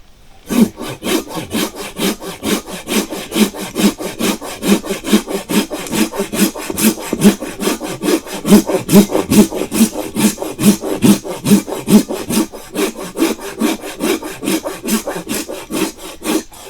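Hand saw cutting through a heavy hardwood deadfall tree, a fast, even rhythm of rasping push-pull strokes, close and continuous with one brief pause.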